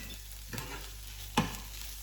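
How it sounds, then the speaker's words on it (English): Onions and tomato paste fry in oil for Armenian sour cabbage rolls, a soft steady sizzle with two brief stirring scrapes. "I would add a couple of generous tablespoons of tomato paste and cook it for"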